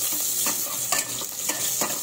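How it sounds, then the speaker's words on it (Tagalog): Garlic sizzles steadily in a very hot pan while a utensil stirs it in regular scraping strokes, a constant bright hiss with no talking. "Okay, lagyan natin ng bawang kasi umuusok na."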